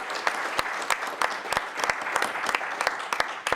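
An audience at a creative leadership symposium applauds, a dense run of clapping with sharp individual claps standing out, steady and close for the whole stretch.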